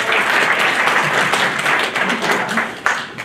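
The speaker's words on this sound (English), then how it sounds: "So, applause." Applause from a theatre audience, a dense continuous patter of many hands clapping at steady loudness for a few seconds, with faint voices mixed underneath.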